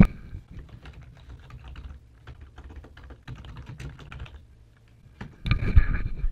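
Typing a name on a computer keyboard in office software, a run of distinct close keystrokes at an uneven pace with short pauses, ending in a louder burst of clicks, with no talking.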